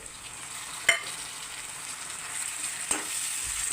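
Onion and tomato fry in a pan with a steady, quiet sizzle, and two sharp clinks of a utensil against the pan cut through it.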